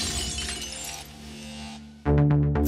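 A wine glass shatters with a sudden, loud, bright crash that follows a sustained musical tone, with tinkling fragments ringing on afterward.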